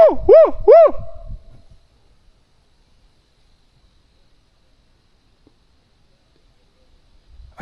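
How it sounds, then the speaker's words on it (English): Three echoing owl-like whoops ring out in quick succession at night in the mountains, loud and close, followed by long silence with a faint return of sound at the very end. "It sounded like an owl-like hoot, but it was more like a whoop from a bigger thing, because it echoed across the mountain."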